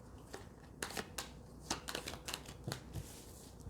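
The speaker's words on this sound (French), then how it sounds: "Et je vais mélanger les cartes." Tarot cards being shuffled by hand in a quiet room, a quick run of crisp riffling bursts and soft slaps, close and fairly faint, with no talking.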